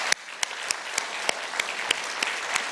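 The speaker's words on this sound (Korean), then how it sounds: "우리 모두를 위해서 큰 박수 한번 하겠습니다" Church congregation gives a big round of applause during a Sunday service, steady dense clapping with a few sharp louder claps standing out at a regular pace, no voices over it.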